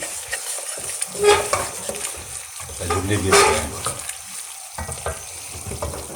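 Besan roasts in a pan for besan pattisa, stirred with a spoon. Close, repeated scraping strokes mix with a soft, steady sizzle, with no one speaking.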